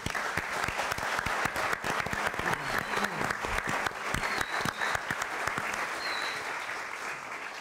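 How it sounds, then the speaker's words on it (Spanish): Applause from a university audience at a philosophy talk, a steady dense patter of many hands clapping with scattered sharper claps, holding loud throughout before easing slightly at the end. "Un aplauso, por favor, para ellos."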